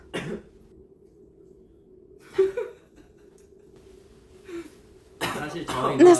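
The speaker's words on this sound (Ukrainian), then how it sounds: "Насправді відкашляйся." A few throat clears and a short cough, close by, separated by quiet pauses, followed by people talking and laughing.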